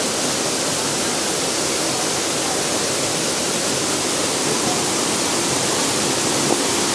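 Maguibuay Waterfalls, the second falls, a steady loud broadband roar of rushing water that holds constant throughout with no voices.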